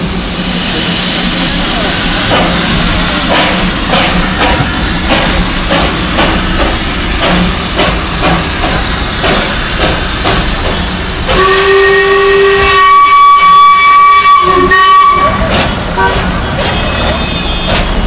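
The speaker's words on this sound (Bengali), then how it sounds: "যেই জিনিসটার জন্য ওয়েট করছিলাম সেটার টাইম চলে আসছে স্টিম লোকোমোটিভ টয় ট্রেন" A Darjeeling steam locomotive toy train at Sukhiapokhri hisses loudly with bursts of steam, then sounds a long, clear whistle with a couple of sustained tones, with voices faintly in the background.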